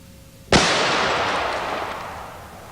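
A single loud, close gunshot from a .460 Rowland pistol fired at bowling pins, with a sharp crack followed by a long decaying outdoor echo.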